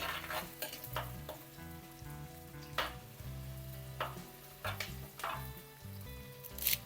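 Sliced small sambar onions fry in oil for a fish curry, a soft sizzle broken by several sharp stirring scrapes and clinks of a spoon against the pan, with no one speaking.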